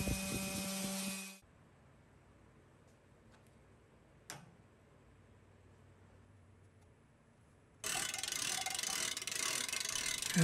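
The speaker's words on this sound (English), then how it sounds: "I guess I need to lubricate my saw" A woodworking saw needing lubrication, cutting a curly maple and purpleheart audio rack: loud, dense mechanical noise in two bursts with a quiet stretch and a sharp click between them.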